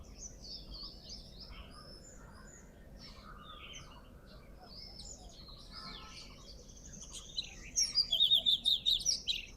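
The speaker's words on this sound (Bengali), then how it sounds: "এটা কিন্তু দুয়েলের ডাক।" An Oriental magpie-robin calls in a garden, with thin whistled notes early on and then a louder burst of rapid chirps near the end, heard over soft insect and ambient background.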